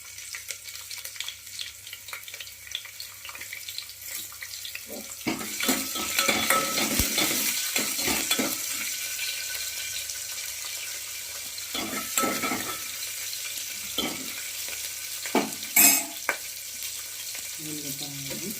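Green chillies frying in a pan for rice rava upma, with broadband sizzling and intermittent scraping stirs that grow busier midway, close and steady, no talk.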